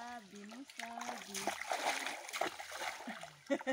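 Water splashes and sloshes near a person in the water, with someone speaking Portuguese over and between the irregular splashing.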